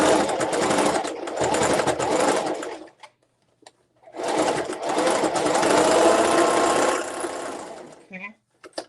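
An electric sewing machine stitches a zipper tote bag in two bursts of fast, buzzing needle chatter, loud and close, with a short pause between runs and a brief stop near the end.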